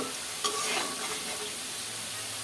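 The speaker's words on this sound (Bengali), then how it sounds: "আমি আরও দুই মিনিট এটা ভেজে নেব কারণ আলুটা ভাজার মধ্যেই রান্না করে নিতে হবে" Steady, soft sizzling of potatoes frying in oil, with a brief stirring scrape near the start and no voices.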